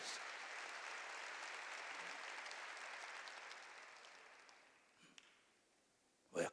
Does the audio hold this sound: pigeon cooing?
no